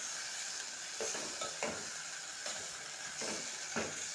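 Brinjal and tomato curry frying in a pan, a steady hiss of sizzling with repeated spoon strokes stirring it at an even pace.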